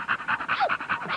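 A Blue Bubba female dog pants in a kennel yard, about eight quick, even breaths close to the microphone, clear and fairly loud, with a brief whine partway through.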